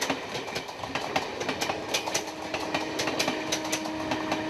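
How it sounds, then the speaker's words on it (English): A passenger train runs along a railway line through Rajaji National Park in elephant country, its steady rumble broken by a rapid series of clattering wheel clicks over track joints, with a faint tonal hum underneath. "Some 30 trains pass here daily, transporting thousands of people and sometimes cargo across the country."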